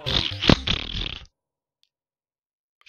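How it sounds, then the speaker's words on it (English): A loud, wet fart noise bursts from a Super Mario Maker course, a sharp spike amid rough, sputtering game sound that cuts off abruptly, followed by near silence and a faint blip at the end. "Fart noises."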